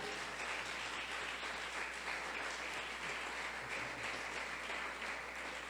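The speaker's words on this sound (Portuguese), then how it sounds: "Aplauda ele." A church congregation applauds during a Portuguese sermon, dense and steady clapping filling the whole stretch at an even level, with a low hum underneath.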